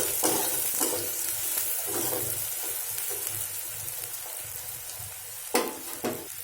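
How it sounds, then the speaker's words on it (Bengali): Chopped onion frying in a pan for macaroni pasta gives a steady close hiss, broken by a few clattering stirs of a utensil against the pan. "এবার দিয়ে দিচ্ছি পেঁয়াজ কুচি, এটাকেও ভেজে নিতে হবে।"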